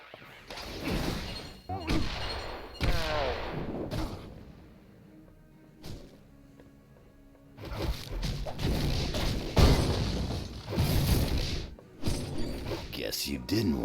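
Bombs going off in a Marvel video game: several loud crashing booms in clusters separated by quieter gaps, with smashing debris and game voices mixed in.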